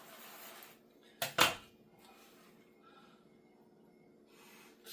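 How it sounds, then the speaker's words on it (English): A knife slices cheesy garlic bread into sections with two quick, loud crunching strokes close by, then near silence with faint handling sounds. "so I'm just going to use my knife, and we'll just cut that down into a few sections"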